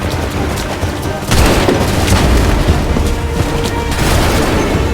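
Cannon fire in the Assassin's Creed 3 video game: loud, rumbling booms and overlapping blasts from a battle, with a heavier volley about a second in.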